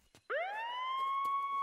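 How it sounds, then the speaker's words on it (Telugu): An ambulance siren in a Telugu film scene, a loud rising wail that sweeps up and then holds a steady tone, heard close and alone after a couple of brief knocks. "అంబులెన్స్ సైరన్ కూడా పోయింది."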